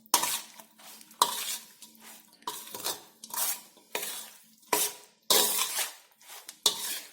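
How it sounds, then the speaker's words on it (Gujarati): Carrot pickle stirred and mixed in a metal vessel with a spoon, a steady run of repeated scraping and clinking strokes, close and moderately loud, with no voices. "બધું જ આ રીતે સારી રીતે મિક્સ કરીશું."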